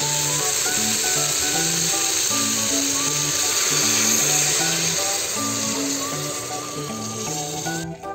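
Beef for Antique-style linahab na baka sizzles loudly in a hot pan as water goes in, a dense, steady hiss and crackle with background music playing underneath throughout.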